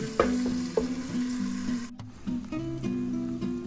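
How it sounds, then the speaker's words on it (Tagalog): Chicken adobo bubbles and sizzles in a covered pot nearby, a busy crackling simmer with a brief clatter partway through. "kumukulo na"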